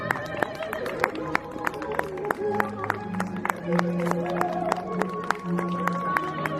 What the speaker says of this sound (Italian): Big applause for the mask of Mario and the 700 Venetian typical dance.